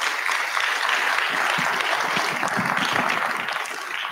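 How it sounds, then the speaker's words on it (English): Audience at a RIDE Con event with Van Lathan claps steadily for about four seconds, a dense, even patter of many hands that stays loud throughout with no talking over it. "Let's give him a round of applause."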